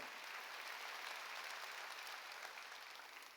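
A church congregation at a Sunday worship service applauds, broad steady clapping from a large crowd, faint and roomy, slowly tapering toward the end.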